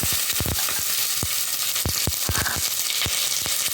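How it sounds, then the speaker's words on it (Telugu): Sliced onions going into about four tablespoons of hot oil for a Chennai-style kichidi: loud, close hissing with a run of sharp crackles and spits, and no talking. "ఇప్పుడు ఉల్లిపాయలు వేస్తానండి"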